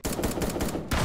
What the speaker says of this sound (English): the gun sounds are now officially changed. It's the current gun sounds.